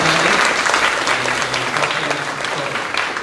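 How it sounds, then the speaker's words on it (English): Sustained applause from an audience, dense clapping at a steady level throughout, filling the room. "please give these kids a round of applause for being here."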